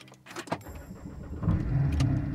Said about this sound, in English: and that starts up that engine